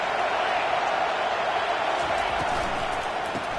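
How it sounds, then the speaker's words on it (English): A packed stadium crowd at a college football game roars in a dense, steady wall of noise that holds for the whole stretch without a break. "This crowd bringing the energy and noise early."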